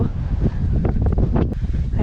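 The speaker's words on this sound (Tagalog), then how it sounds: "Ang lakas ng hangin." Strong wind gusts on a mountain night hike at Mt. Marami, buffeting the microphone in a loud, rough, low roar that swells and dips unevenly, with faint voices mixed in.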